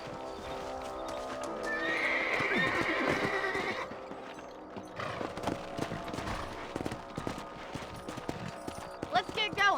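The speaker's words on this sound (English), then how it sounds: "Let's get back on the horses and see what else is going on." Horses neigh and gallop in the video game Red Dead Redemption, with loud whinnies early on, then brisk hoofbeats clip-clopping. A voice speaks over parts of it.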